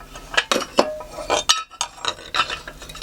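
A metal workpiece shifted and turned in a bench vise, a short run of close, bright clinks and knocks with brief pauses between them.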